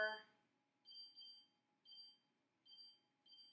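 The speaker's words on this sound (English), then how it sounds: "And we're going to set the timer there" A kitchen oven timer gives short, faint, high-pitched beeps in quick pairs and singles, spaced about a second apart, while baking chocolate cupcakes.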